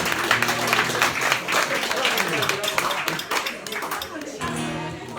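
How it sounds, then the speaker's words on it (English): An audience claps and applauds steadily, a dense wash of hands with some voices mixed in underneath. "Actually, I got 2 rounds of applause then from first one."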